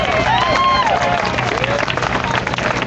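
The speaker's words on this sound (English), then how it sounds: "You can clap for that" An audience claps and cheers at a live speaking event, a steady dense wash of applause mixed with crowd shouts and voices from start to finish.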